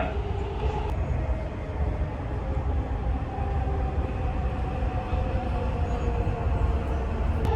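Inside a moving Dubai Metro train, a steady low rumble of wheels on rails and car noise hums continuously, with no one speaking.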